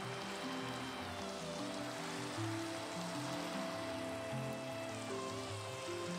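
Rain falls in the video game Minecraft as a soft, continuous hiss, with faint tonal music running underneath and no talk.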